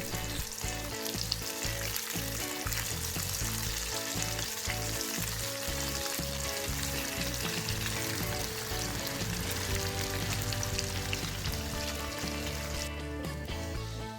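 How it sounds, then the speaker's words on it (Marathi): Pieces of rohu fish fry in hot oil in a home kitchen for a crispy fish fry, giving a dense, continuous crackling sizzle with rhythmic stirring or scraping beats underneath, close and steady throughout. "एका बाजूने फिश चांगले फ्राय झाल्यावर दुसऱ्या बाजूने 5 मिनिटे फ्राय करून घ्या"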